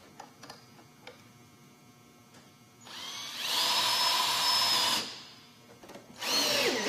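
Power drill driving screws through ridge roofing panels into a ridge board, two loud whirring bursts after some clicks and handling, no talking.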